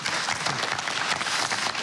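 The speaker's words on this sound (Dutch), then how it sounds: "U krijgt vast en zeker ook automatisch een warm applaus" Warm applause from the audience at a closing municipal election debate in Peel en Maas, a brief, dense wash of steady clapping with no voices.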